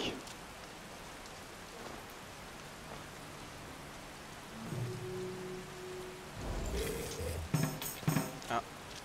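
Steady rain falls as a soft, even hiss in the video game For The King, joined near the end by brief louder game sound effects and tonal chimes, with someone talking briefly.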